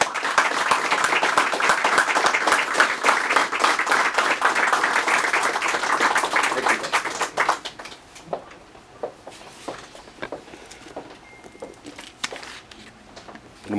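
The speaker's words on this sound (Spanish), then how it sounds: "yo quiero pedir a este público amable un vigoroso aplauso de bienvenida para Antonio Ledesma" Audience applause for author Antonio Ledezma at a book presentation, a dense burst of clapping lasting about seven seconds before thinning to scattered claps and room noise.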